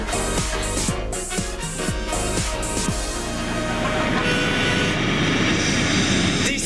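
A DC-10 jet airliner passes overhead, a broad roar that builds and stays loud after a few sharp knocks and thumps at the start.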